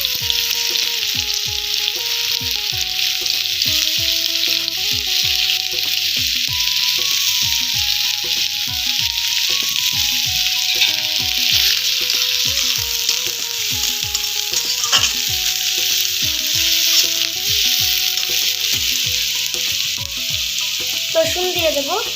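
Chopped onion frying in hot oil, a loud, dense, continuous sizzle heard close up throughout, with background music playing over it and no talking.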